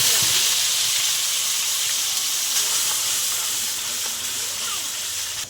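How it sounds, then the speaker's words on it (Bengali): Onion paste sizzles in hot oil in a pan, with dried chilli, cinnamon and black pepper already in, giving a steady, loud, broad hiss throughout. "এখানে পেঁয়াজের পেস্টটা দিয়ে দিলাম।"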